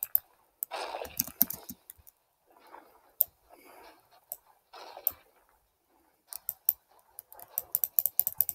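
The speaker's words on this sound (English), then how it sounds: "You can probably hear me clicking." Mouse clicks during video game play come in quick sharp bursts with pauses between them, and a faint low voice murmurs in the gaps.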